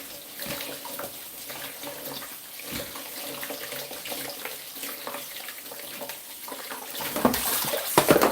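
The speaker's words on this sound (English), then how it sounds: "Now, I think we'll go with washing the melon. My sponge is always ready with me." Tap water runs steadily while a melon is scrubbed with a sponge beneath it, a continuous close splashing wash that grows a little louder near the end, with no talking.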